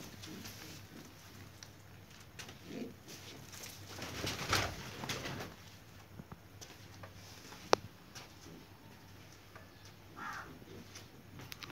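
Pigeons cooing softly in the early morning, faint low calls scattered among quiet ambient noise and occasional clicks.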